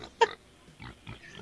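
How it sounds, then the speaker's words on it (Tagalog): A pig squeals once sharply and close, followed by a couple of quieter grunting snorts, with no talk. "Umiyak na yung baboy ko eh."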